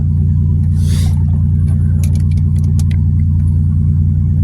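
A cold Buick car engine idles steadily after starting, a loud continuous low rumble with a few faint clicks and a brief hiss over it.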